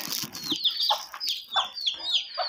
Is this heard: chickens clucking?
yes